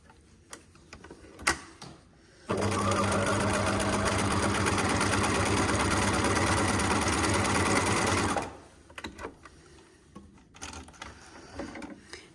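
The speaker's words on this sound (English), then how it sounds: "My machine doesn't feel like it's just stitching in one place" A sewing machine stitches appliqué in one steady, loud run of rapid mechanical whirring that lasts about six seconds, with quieter handling clicks and taps before and after it.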